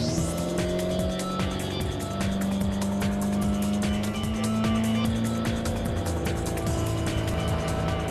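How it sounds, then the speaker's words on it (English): A motorboat with a 135 hp engine tows a wakeboarder, its engine holding a loud, steady drone with a constant harmonic hum for the whole stretch, no voices over it. "Only way to find out is to go get a wakeboarder and let's start towing him."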